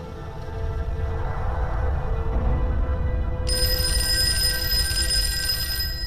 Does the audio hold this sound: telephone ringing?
yes